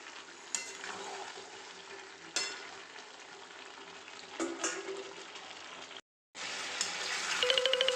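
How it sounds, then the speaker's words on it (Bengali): Meat sautés in a pan with a little water added, a moderate continuous sizzle and bubbling with occasional stirring scrapes, cutting out briefly before resuming louder. "জল দিয়ে দিয়ে কষিয়ে নেব যতক্ষণ না এটা কষাবো, ততক্ষণ পুরোপুরি জলটা দেবো না"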